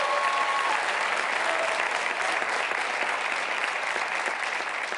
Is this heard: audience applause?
yes